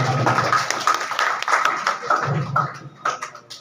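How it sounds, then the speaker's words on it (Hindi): A crowd at a World Disability Day gathering in Muzaffarpur claps to welcome a district vice president, giving a dense burst of hand claps close by with some voices mixed in. "जिला उपाध्यक्ष एक बार जोरदार ताली से स्वागत करें"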